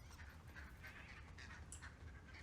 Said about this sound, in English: it sounds like there's a million ducks and there's no ducks